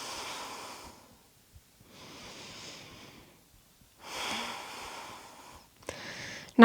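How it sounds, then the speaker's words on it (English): Deep, slow breaths during a yoga class, taken lying on the back: three long, soft airy inhale-exhale swells with quiet gaps between, close and gentle, ending in a sharper sniff and no talking. "Let's take 3 deep breaths here."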